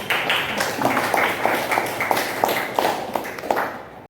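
An audience of students in a classroom applauding, with steady rhythmic clapping that stays moderately loud throughout and then stops abruptly at the end.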